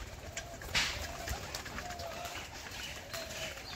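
Pigeons cooing in a loft with low, soft, repeated calls, moderately near, and one brief brighter burst early on. No one speaks.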